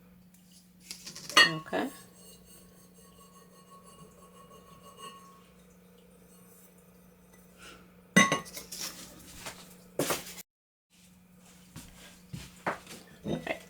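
Clinks and scrapes of a glass cookie jar lid being worked loose, with a couple of bright glassy knocks and rattles separated by quiet stretches; someone briefly speaks.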